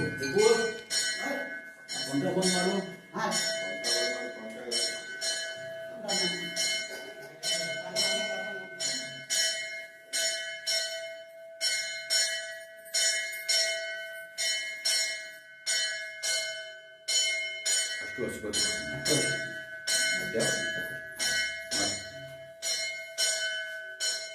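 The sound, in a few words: temple bell ringing during aarti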